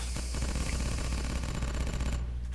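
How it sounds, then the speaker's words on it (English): Rapid machine-gun fire in the video game SMOD Outbreak rattles in a dense, continuous burst, loud and close, with no talk over it. "Why am I hearing gunfire?"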